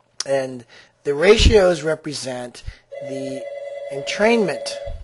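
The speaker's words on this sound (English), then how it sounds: "so that was my phone ringing" A mobile phone rings with an NFL theme ringtone during a lecture on oxygen therapy devices. A steady melodic tone sounds loudly under a man's continuing speech for the last couple of seconds.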